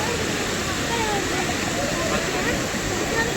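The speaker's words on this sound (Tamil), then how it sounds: "தண்ணி எவ்வளோ ஃபோர்ஸ் ஆகுது பாருங்க." Rushing water pours down Chinna Kallar Falls in Valparai, a loud, constant roar of forceful flow heard up close, steady and unbroken for the whole stretch.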